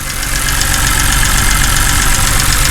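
A BMW E60 engine with a freshly replaced valvetronic motor gasket idles steadily and close by, a low, even mechanical hum with a faint rhythmic ticking and no voices.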